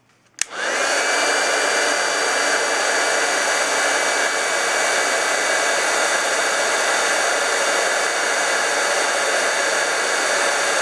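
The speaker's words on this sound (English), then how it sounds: "You're going to take your heat tool, and this gets very hot." A heat tool blows hot air onto an embossed card, a steady, loud roaring hiss that starts abruptly after a brief click and runs unbroken to the end.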